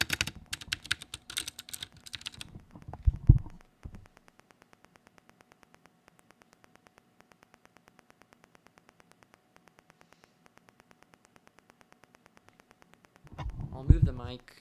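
A loud, thumpy computer keyboard: a burst of rapid close keystrokes, a long near-silent gap with faint ticking, then another short flurry of typing at the end.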